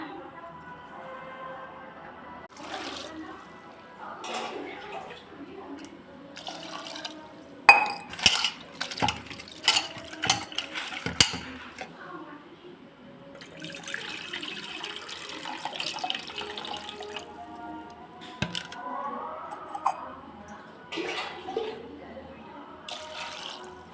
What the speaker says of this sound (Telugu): ఇవి నీళ్ళు పోసి ఒక రెండు సార్లు బాగా కడుక్కోవాలి